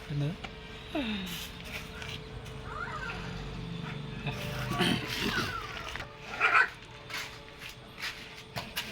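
Small puppies and their mother dog at a workplace, with intermittent high whimpers and short yelps near the microphone over a noisy outdoor background.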